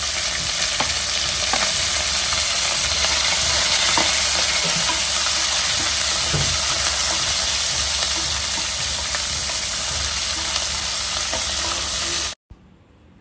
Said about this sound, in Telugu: ఇంక ఇప్పుడు మనం దీంట్లోకి కట్ చేసి పెట్టుకున్న మిర్చి ఇంకా ఆనియన్ 2 వేసుకుని దాన్ని కూడా బాగా ఫ్రై